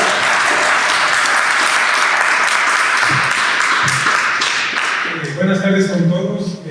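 A large audience bursts into sustained applause welcoming a guest speaker at a software and tech talk on Sitecore Personalize, dense clapping filling the room for about five seconds before thinning as a speaker starts talking.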